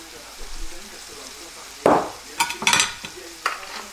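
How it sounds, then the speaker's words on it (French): Stuffed cabbage paupiettes in a frying pan, a soft steady sizzle broken by a few louder bursts of stirring and clatter, close by. "Et on fait revenir un petit peu tout ça de chaque côté"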